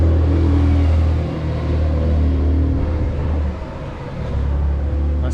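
A Porsche car passing on a village road, a loud low engine rumble that rises and falls as it goes by, no talking.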